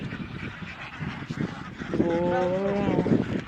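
A flock of white and black farmed ducks quacks and honks nearby, the calls growing louder and more layered over a background of outdoor noise.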